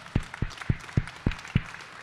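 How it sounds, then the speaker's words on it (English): Sparse clapping from a small audience at a talk event, six sharp, evenly spaced claps in a steady slow rhythm, close and moderately loud over a quiet background. "Let's give another round of applause for Noah."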